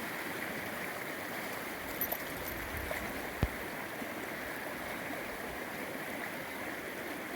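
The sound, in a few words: Blanco River flowing bank full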